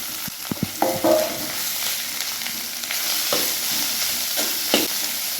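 Chopped mustard greens tossed into a hot pan with roasted garlic and crushed green chillies, sizzling steadily with scattered scraping stir clatters close by.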